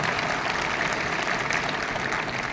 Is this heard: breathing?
no